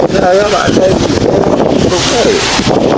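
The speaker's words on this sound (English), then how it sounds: "it's super windy" Strong wind buffets the microphone with a loud, steady rumble throughout, while voices talk over it.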